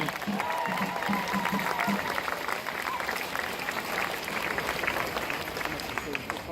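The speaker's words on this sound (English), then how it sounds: "How about a round of applause for Maria, who's done a great job as MC." A crowd at a 2018 Palm Sunday refugee action rally applauds for the MC, a sustained outdoor patter of many hands with faint voices and cheers mixed into the crowd noise.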